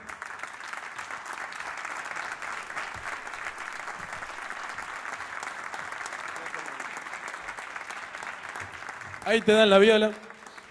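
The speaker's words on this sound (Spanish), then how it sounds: "fuerte el aplauso para él" Audience applause at a live folk concert in Rosario, Argentina, a steady wash of clapping that carries on, with someone speaking briefly near the end.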